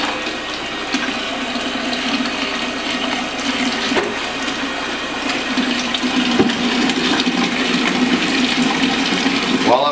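Water runs steadily into the tank of a dairy truck at a farm stop, a continuous rushing fill close by with a low pump-like hum underneath and no talking.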